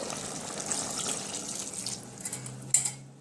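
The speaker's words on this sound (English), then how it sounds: "So what I'm gonna do now, I'm gonna pour some water in" Water poured from a tap or jug into a pot of stewing beef, a steady running splash that carries on throughout, with a sharper burst of splashing near the end.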